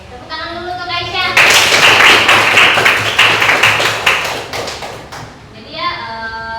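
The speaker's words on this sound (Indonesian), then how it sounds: "Oke, tepuk tangan dulu untuk Aisyah" Students in a classroom clap for a classmate, a lively burst of quick, uneven hand claps lasting about four seconds, with children's voices just before and after.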